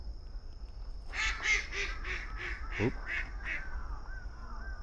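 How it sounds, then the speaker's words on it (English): A duck by brackish water in Hamarikyu Gardens, Tokyo, gives a close run of about seven rhythmic quacks over steady background hum, with a brief human exclamation partway through. "look, there's a duck right here"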